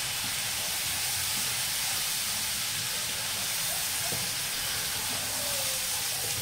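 Bean stew sizzles and hisses steadily in a hot pot as it is stirred, a dense, constant frying noise with faint scraping underneath and no talking.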